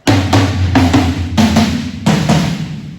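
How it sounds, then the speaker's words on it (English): Several dull, low hits on 13-inch toms of different depths without bottom heads, each a thuddy boom that decays quickly, struck one after another with short pauses, close and fairly loud. "Okay, all 13-inch toms of different depths."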